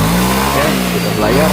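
A Honda Beat ESP motorcycle engine idles loudly and close after its transmission gears were replaced, a steady low rumble with slight revving, while someone speaks briefly over it.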